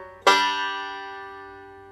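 Banjo walk-up to G played slowly: after a short quiet moment one bright plucked note strikes close and rings with a long, gradual decay, no voices present.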